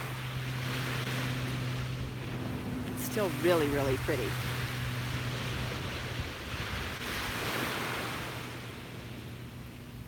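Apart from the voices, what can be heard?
small waves on the Gulf of Mexico beach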